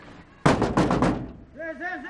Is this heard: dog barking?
no